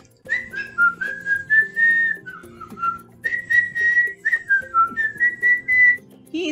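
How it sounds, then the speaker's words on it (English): A person whistles a melodic tune in a children's alphabet lesson: a run of clear, sustained and sliding notes in phrases, close and fairly loud, with a pause in the middle and no talking. "He's whistling like me."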